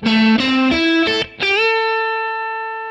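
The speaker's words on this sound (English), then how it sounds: "that is a minor pentatonic lick, and it'll sound great in the blues" An electric guitar with a clean, effected tone plays a short rising minor pentatonic blues lick of several notes, ending on a long bent note that rings out and fades.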